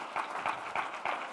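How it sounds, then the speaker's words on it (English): Scattered clapping from an audience at a tobacco summit, a short, fairly close burst of claps at an uneven rhythm, brief and moderately loud. "Clap for that."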